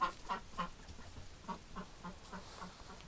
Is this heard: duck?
yes